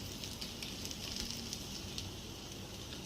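Raw banana and capsicum sauté in a pan with a steady, close hiss and fine crackle that runs unbroken throughout.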